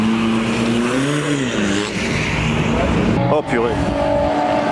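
Noisy 1.9 TDI diesel car in a slow drag race, a loud steady engine drone with shifting pitch across the run, a brief dip near the end, while people talk excitedly over it.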